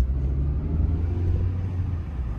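Car engine pulling away from a standstill after repair work, a close, steady low rumble that holds for a few seconds.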